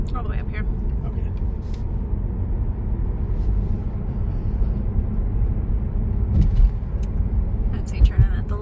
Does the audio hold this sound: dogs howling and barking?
no